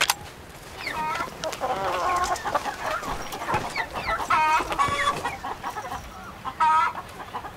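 Several chickens cluck and squawk close by, in irregular bursts over a steady outdoor background.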